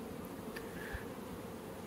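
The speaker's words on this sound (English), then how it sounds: "there's a ball of bees down there" Honeybees balling a queen beside a small nucleus colony hum in a dense, continuous, low buzz, faint and steady throughout, with a few brief sharper buzzes of individual bees passing close.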